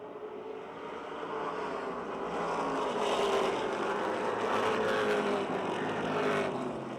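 Race cars roar around the Motordrome Speedway oval in a close battle for position, a steady loud engine drone that swells as the pack draws nearer, with no talk over it.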